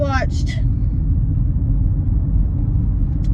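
Low, steady traffic rumble from outside where road works are underway, a continuous deep drone; a brief voice is heard at the very start.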